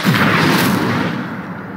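An incendio fire spell is cast in Hogwarts Legacy, a loud, booming whoosh of flame that bursts at once and fades over a second and a half.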